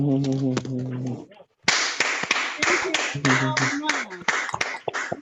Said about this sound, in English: That's our round of applause.